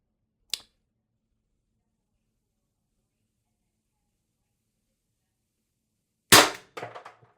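Mercury Rise TR50 CO2 air pistol firing, a sharp snap of a shot followed after a long silence by a louder crack with a short rattle of mechanical clicks trailing off.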